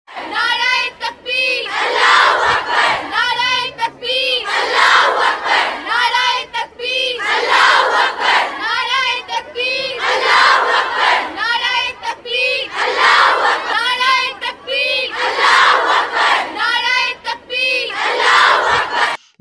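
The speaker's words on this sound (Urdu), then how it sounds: "اس موقع پر فضا اللہ اکبر کے نعروں سے گونج اٹھی۔" Thousands of female students chant in unison at an outdoor Haya Day walk, loud rhythmic bursts of shouted slogans repeating in a steady call-and-response pattern with short pauses between each cry.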